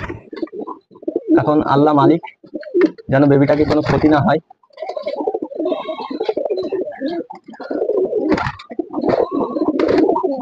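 Fancy lakka pigeons coo in low, throaty, repeated bursts close by, with a person talking over and between the calls.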